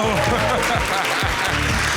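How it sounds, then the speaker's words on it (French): Standing comedy-show audience applauding, the clapping running under loud, pitched voices and cheering that rise and fall across two seconds. "Tout content, mesdames et messieurs, on se lève pour l'applaudir."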